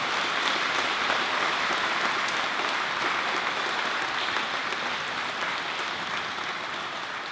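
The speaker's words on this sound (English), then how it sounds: "Could you please give all of these students a round of applause?" A crowd at a 2019 awards presentation applauds students steadily, a dense wash of clapping that holds at even loudness throughout.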